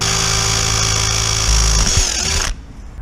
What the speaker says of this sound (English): drill that